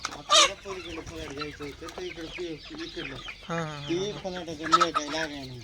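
A large rooster at a farm where four-month-old multicolour and plain chicks are sold clucks repeatedly in close, uneven bursts, with someone talking over and between the calls.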